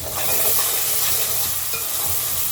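Methi, coriander and mint fry for carrot fried rice in a hot pan, giving a loud, steady sizzle with stirring scrapes, close up and without talking.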